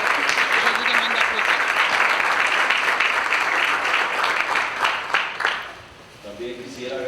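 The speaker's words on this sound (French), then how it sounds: "Je vous demande d'applaudir." An audience at a Petro Caribe ministers' meeting applauds loudly and steadily for several seconds, the clapping fading toward the end as a voice begins over the room.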